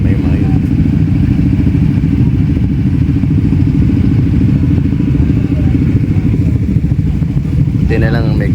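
Big bike motorcycle on an endurance ride, a loud steady engine rumble with rattling mechanical clatter running the whole time, close up, and a brief wavering higher sound near the end.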